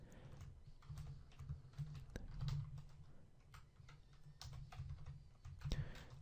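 PHP code typed on a computer keyboard, a steady run of soft, rapid key clicks continuing throughout at close range and low level, with no talking.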